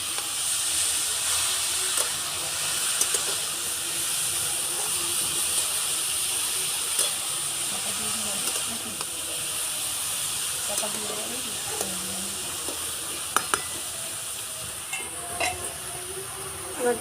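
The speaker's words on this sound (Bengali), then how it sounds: "গাজরটা ভাজতে হবে" Carrots frying in a pan for carrot laddu, a quiet steady hiss and sizzle with occasional stirring clicks, heard softly under intermittent talking.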